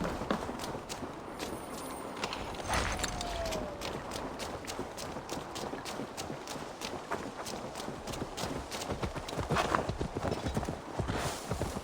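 Horse hooves clip-clop steadily and rhythmically in Assassin's Creed Valhalla, a Viking-era game, as a horse is ridden along, the hoofbeats close and prominent over a low ambient background.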